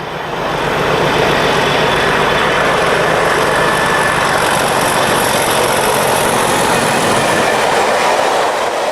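A British Rail Class 37/6 diesel locomotive, 37605, works hard at Crewe, producing a loud, sustained engine roar with rail clatter that builds quickly and holds steady throughout.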